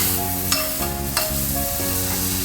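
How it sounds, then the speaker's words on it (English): Butter sizzling in a hot pan heated over a medium-high gas flame, ready for toasting pav buns; a steady, fairly loud frying hiss runs throughout, with a couple of sharp clinks of a utensil and no talking. "Once the pan is heated, I'll put little butter on the pan"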